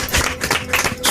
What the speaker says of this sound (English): let's have a round of applause for that mix